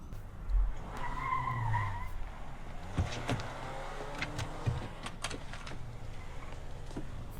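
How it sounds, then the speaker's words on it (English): Tires squeal in a short skid near the start, followed by a car engine and road noise fading into a softer rumble with scattered knocks, fairly quiet overall. "He hears tires squealing."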